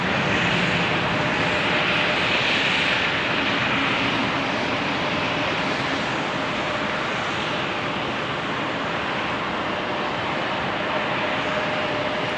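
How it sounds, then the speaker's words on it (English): A SkyWest CRJ 700 regional jet arriving at Salt Lake City airport, heard as a loud, steady engine roar and broadband rush that holds for the full stretch with no talk. "Next arrival will be SkyWest 3136 on a CRJ 700 from Chicago O'Hare."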